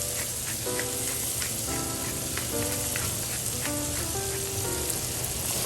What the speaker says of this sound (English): we wanna cook this down until the onion is translucent